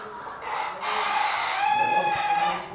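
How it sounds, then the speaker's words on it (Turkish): Black Deutsche Schwerbe chickens at a small animal show in Leingarten, with a rooster's drawn-out crow and some clucking rising over a busy hall background. "Burada da siyah tavuklar neymiş? Deutsche Schwerbe."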